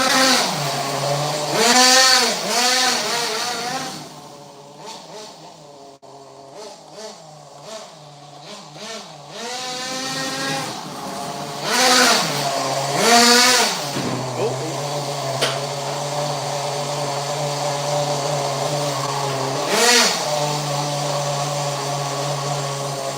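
A Losi Eight T nitro RC truck engine revs loudly in repeated rising and falling bursts, with sharp throttle blips and steady idling stretches between them, close by and alone.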